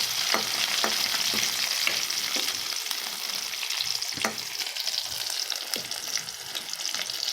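Tempering spices spluttering in hot oil for rasam, along with onions being fried until red, make a steady close sizzle with sharp pops and crackles scattered throughout and no voices.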